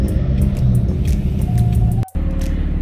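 A BMW M4 engine hums at a low, steady rumble while driving through Palmas in comfort mode with exhaust valves closed, a constant close drone broken by a brief dip near the end.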